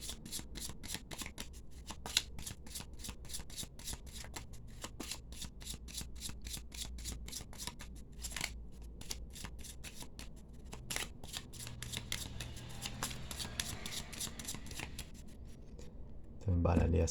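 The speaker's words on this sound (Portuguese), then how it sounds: "embaralhei as cartas, cortando um monte" A deck of tarot cards is shuffled and cut by hand up close, a long run of quick riffling flicks and soft card rubs, ending with a thud as the pile is set down.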